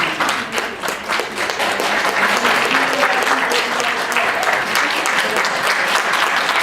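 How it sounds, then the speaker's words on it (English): A university audience gives a round of applause for the candidates at the end of a 2016 Clinton/Trump mock debate, dense sustained clapping throughout with a faint voice audible underneath. "Can we please give all candidates a round of applause?"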